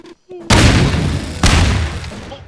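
Bombs in the video game Melon Bomber go off as two loud, booming explosions about a second apart, each with a long rumbling tail, following a brief blip at the start.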